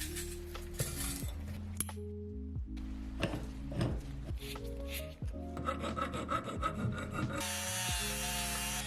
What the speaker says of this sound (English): Even polishing the screw head, man, nice.